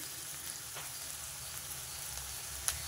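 Onions frying in a pan in a home kitchen while leafy greens are being cooked, a soft, steady sizzle with faint crackles and one brief sharp pop near the end, no talking.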